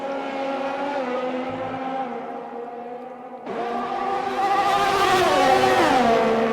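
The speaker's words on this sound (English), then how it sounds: "That McLaren's making some odd noises, but I think it's just the game rather than any mechanical issues going on with it." Engine of a McLaren Formula 1 car in a racing video game, a steady high-pitched whine that drops back, then surges louder with rising and falling revs, heard alone without talk.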